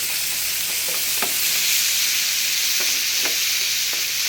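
Tomato sizzles steadily and loudly in a hot pan while sautéing for an egg curry, with occasional scraping stirs and no talking.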